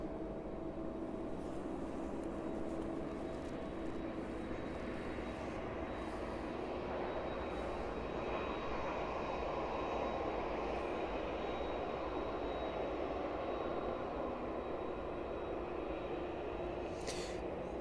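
Fixed-wing airliner on the ground at East Midlands Airport, rolling along runway 27 toward a taxiway; a steady, fairly distant engine drone holds for the whole stretch with no voices.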